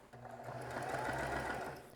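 A sewing machine stitches steadily while quilt blocks are chain pieced, giving a close, continuous whirring hum for the full two seconds with no pause and no talking.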